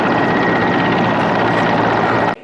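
A rescue helicopter hovers low over water during an emergency services drill, its rotor and engine giving a loud, steady, dense roar that fills the whole clip before cutting off abruptly at the end.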